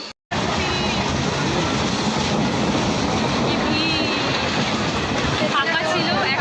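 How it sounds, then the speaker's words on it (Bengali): A nearly empty moving passenger train passing Barrackpore, heard onboard as a loud, steady rumble and rattle with rushing wind noise after a brief dropout at the start. "হ্যাঁ, ফাঁকাই আছে ট্রেনটা, একদম ফাঁকা।"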